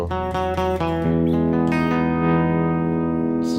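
A sustained synth drone held steady and loud, bathed in a long, spacious concert-hall reverb from a Lexicon PCM 70 that smears each note change into a lingering wash.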